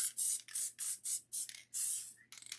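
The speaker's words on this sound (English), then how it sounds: "lightly spray the petals" Short bursts of an aerosol spray adhesive can hiss in quick succession onto flower petals, about seven rapid squirts close to the microphone.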